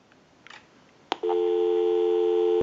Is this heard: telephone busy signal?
yes